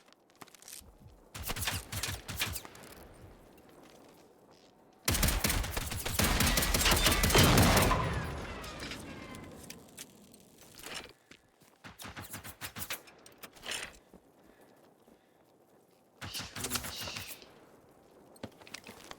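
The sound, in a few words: enemy gunfire from a distant machine in video game Generation Zero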